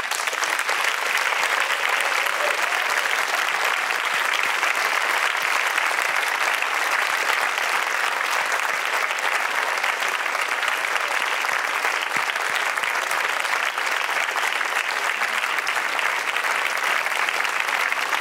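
An audience in the Baden-Württemberg state parliament hall applauds, a dense, even roar of many hands clapping continuously and loudly for the whole stretch, with no pauses.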